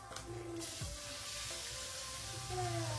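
Fish slides into hot cooking oil in a home kitchen, a soft steady sizzle and crackle with a few clinks of utensils against the pan, fairly quiet and close, with no talking.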